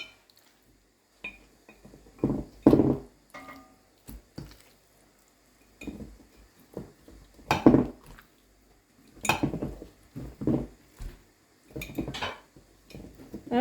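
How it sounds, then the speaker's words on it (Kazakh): Salted duck meat with bay leaves is packed into glass jars by hand: a series of soft, irregular knocks, squishes and clinks, some louder than others, separated by short quiet gaps, close up, with no talking. "Енді осыларды банкіге орналастырамыз."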